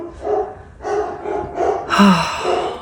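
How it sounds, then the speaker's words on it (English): Dogs barking indoors at home, several short yelping bursts in a loose irregular rhythm, fairly close and moderately loud, with no talk over them. "I was gonna get signs before my dogs started barking."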